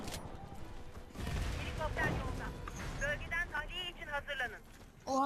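Rapid gunfire bursts from a Warface online shooter match crackle in the background at moderate volume while excited players talk over the shots.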